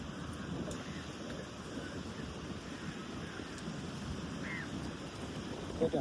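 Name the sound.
sea wind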